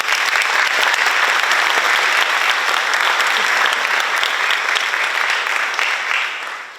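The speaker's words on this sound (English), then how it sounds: "so we can have a round of applause for them." Dense, loud audience applause at a school awards night, continuous clapping throughout that tapers off slightly at the end.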